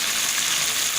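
Ginger and garlic fry in a pan while bitter gourd dal is cooked, giving a steady, close sizzle with no pauses and no talk.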